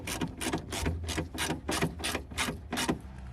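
A hand ratchet clicks in quick repeated bursts, about eight rhythmic strokes close up, tightening strut tower brace fasteners on an Infiniti G35.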